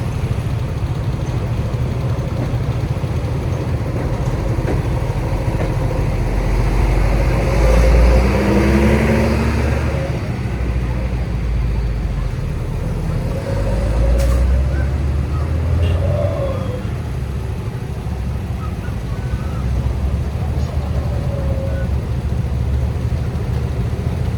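Heavy trucks and other vehicles crawl past on a road in Pesisir Selatan damaged by a landslide, a constant loud engine rumble with louder passes swelling and fading, and voices faint underneath.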